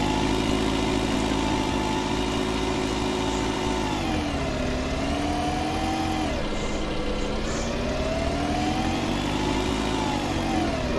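Tractor engine in a farming simulation game, running steadily and loud throughout, its pitch rising and falling gently as it works a field, with no talk over it.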